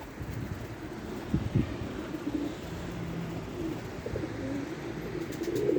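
Pigeons, including young squabs let outside, coo softly in the background among light ambient noise and wind, with a few brief low calls scattered through.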